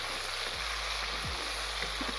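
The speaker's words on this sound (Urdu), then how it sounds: "جی ہم اس میں بھی اپنا چکن ڈالتے ہیں، تھوڑا سا یہ تھوم اور پیاز کے ساتھ اس کو فرائی کر لیں گے" Chicken frying with garlic and onion in a pan, a steady close sizzle running throughout with faint stirring and clinks, no voices.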